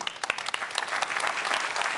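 Sustained audience applause fills a NATO forum hall, dense and steady clapping from a large crowd without voices.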